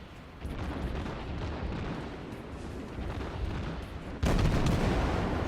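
Warship guns boom during a World of Warships naval battle, a dense, continuous rumble of heavy fire with a sharper, louder burst near the end and no talking.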